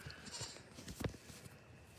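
Goats bleating on a goat farm on a March morning, one clear, short bleat in the middle over steady outdoor background noise, not far off, with no talking.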